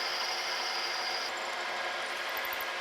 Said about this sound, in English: We got a hole drilled through it.